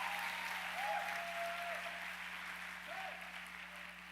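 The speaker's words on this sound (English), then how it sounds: "If you've been through something, clap your hands." Church congregation claps hands together in sustained, dense applause, loud and even throughout, with a few faint sustained tones from a keyboard or voice underneath.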